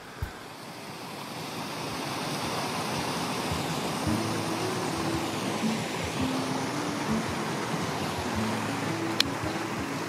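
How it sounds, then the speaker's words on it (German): Floodwater pours steadily across a meadow beside a dam, a continuous broadband rush with faint low tonal sounds drifting in and out, and nobody speaking. "Aber das Hauptwasser strömt hier über die Wiese"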